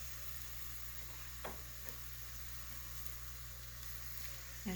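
Patties fry in hot grease in a skillet, giving a steady, quiet sizzle throughout with a few small pops and crackles.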